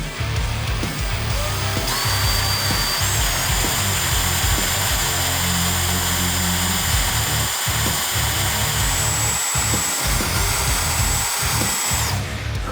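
A power drill bores holes through a plastic Harley-Davidson Touring tour pack, its motor whining steadily and loudly close by, with surges and rhythmic bursts as the bit bites.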